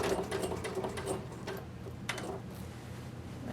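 A sewing machine runs steadily, stitching bias tape around the armhole of a quilted vest with the hood folded on top. The close, even mechanical ticking carries on throughout with a slight change in pace near the middle.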